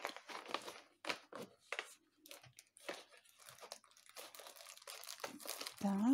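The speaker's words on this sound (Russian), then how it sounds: "Прошу прощения за шуршание" Plastic bags around embroidery kits crinkle in close, separate bursts, each rustle short and sharp with brief quiet gaps between, no talk over them.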